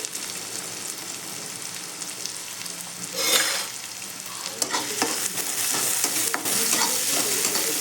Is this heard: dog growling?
no